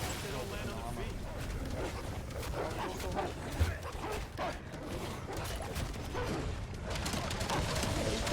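Zombie dogs bark, yip and whimper in Black Ops 7 Zombies, scattered among gunfire and mechanical game noise, with a player talking over the busy mix.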